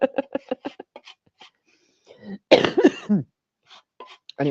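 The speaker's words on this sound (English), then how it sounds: "sorry for coughing" A person coughs in a home setting, a quick run of several close, harsh coughs followed by quiet, then a heavier throat-clearing cough and a brief voiced sound near the end.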